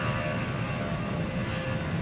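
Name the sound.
jet airplane engines spinning up for takeoff, video game Transport Fever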